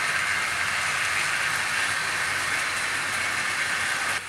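Bulleid Pacific steam locomotive Fighter Command hauling a train of tanker wagons, a steady loud broadband rumble and hiss of the passing train that holds constant throughout, with no voices.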